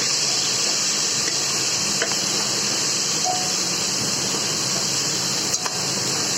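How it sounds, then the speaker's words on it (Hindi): Tomatoes sauté in a pan, a continuous bright sizzle with faint scattered clicks of stirring throughout. "अब हम इन टमाटरों को भी अच्छी तरह से भून लेंगे"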